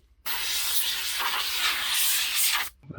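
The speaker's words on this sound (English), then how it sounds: "I'll give that a blowout with the air compressor." A compressed-air blast hisses loudly and steadily for about two and a half seconds, blowing out a filter from a home-made tractor during maintenance, then cuts off abruptly.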